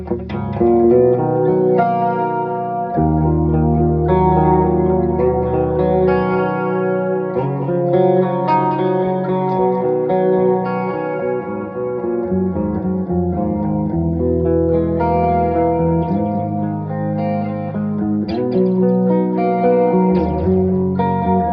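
Electric guitar played through a Mesa Badlander 25-watt tube head with reverb, delay and chorus effects, sustained chords and ringing notes, loud and continuous with a wide, echoing shimmer and no talking.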